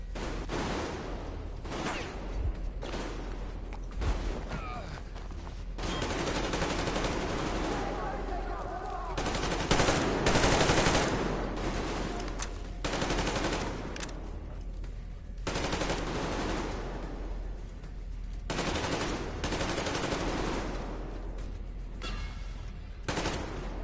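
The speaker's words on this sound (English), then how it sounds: "Machine gun!" Sustained machine gun fire in the video game Metro Exodus, loud repeated bursts and rattling volleys over nearly half a minute, with shouted voices mixed in among the shots.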